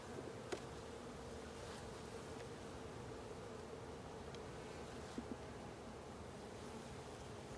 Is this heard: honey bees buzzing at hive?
yes